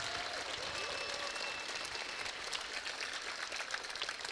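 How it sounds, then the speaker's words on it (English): Applause fills a hall at a hackathon award ceremony as the crowd claps for the host venue Valo, steady and dense throughout without a break. "let's give a huge round of applause to Valo to be able to have this event here"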